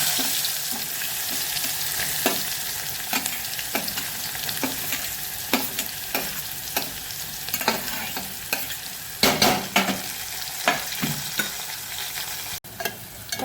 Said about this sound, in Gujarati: પછી ડુંગળીને પહેલાં મિક્સ કરી લઈશું ને થોડી સાંતળવા દઈશું